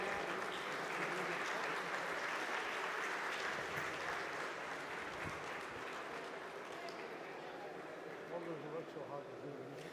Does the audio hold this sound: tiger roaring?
no